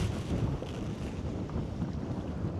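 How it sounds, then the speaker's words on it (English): Wind gusts across creek water and buffets the microphone, producing a loud, continuous low rumbling roar from a kayak on the water, with no talking. "Here comes the wind again."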